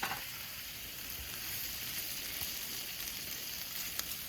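Peppers and onions seasoned with salt, pepper, stir fry sauce and soy sauce sizzle on a flat griddle, a continuous soft hiss of frying with a few small pops, no voices.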